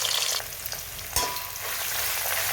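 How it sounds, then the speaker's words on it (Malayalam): Grated coconut frying in coconut oil with cloves and cardamom for a beef curry, giving a loud, steady sizzle with crackling and a brief sharp pop near the middle, with no voices. "അതൊന്ന് പൊട്ടി വന്നപ്പോഴത്തേക്ക് നമുക്ക് തേങ്ങ ഇട്ട് കൊടുക്കാൻ പോണേ."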